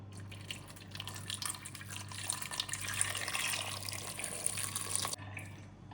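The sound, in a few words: hot water poured into pot of potatoes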